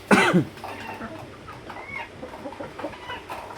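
On a small hobby farm, a rooster gives a loud, close burst of clucking. Quieter clucks and low farmyard rustling follow, and a short cluck comes near the end.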